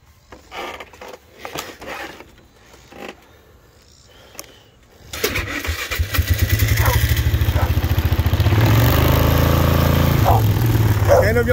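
A four-wheeler ATV engine starts up partway through in a yard after quiet moments of distant voices, then runs loud and steady with a rapid rhythmic idle-to-rev chug close to the microphone.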